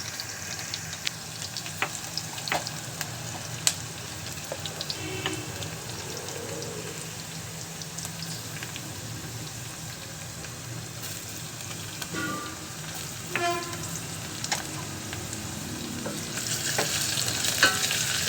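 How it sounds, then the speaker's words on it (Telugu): Ginger garlic paste fries in a pan for a spiny gourd curry, a soft continuous sizzle with occasional stirring scrapes and small pops, fairly quiet and steady with a brief louder flare near the end. "ఇప్పుడు అల్లం వెల్లుల్లి పేస్ట్ వేసుకుందాం."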